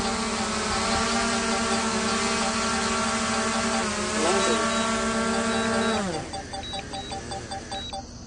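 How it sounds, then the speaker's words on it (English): A camera drone's rotors hold a steady high-pitched whine as it returns home on low battery, dropping in pitch and breaking into a rougher, fluttering hum as it lands. "The aircraft will achieve a home point in 10 seconds."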